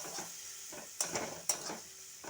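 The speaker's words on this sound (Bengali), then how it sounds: "সামান্য ধনে গুঁড়ো দিয়ে মশলাটা ভালোভাবে কষে নেব" Spice masala of cumin and coriander powder sautéing in a pan, a faint sizzle broken by a few sharp scrapes and clinks of a spoon stirring against the metal, close and quiet.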